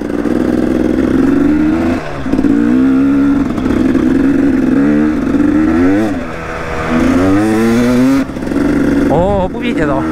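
A KTM EXC 250 two-stroke Six Days enduro motorcycle riding off-road through eroded gullies, its engine loud and close with continuous revving, rising and falling pitch as the throttle opens and closes, and someone talking over it.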